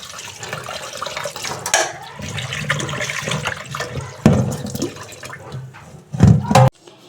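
Tap water runs steadily over raw meat as it is rinsed by hand at a home washing spot, with continuous close splashing and a louder gush of water near the end.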